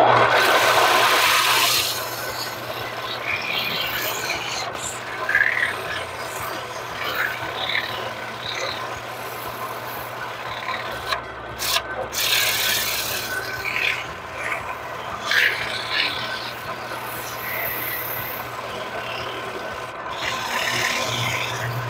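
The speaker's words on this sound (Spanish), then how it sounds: "Vamos a hacer con una lija más suave, una lija 60, para que quede más suave" Steady rasping scrape of 60-grit sandpaper worked back and forth over a cedar wood plate, close and continuous for the whole stretch with brief pauses.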